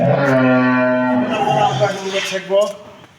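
A Holstein Friesian cow at a dairy farm gives one long, loud, close moo lasting over a second, followed by softer lowing and shuffling farmyard sounds.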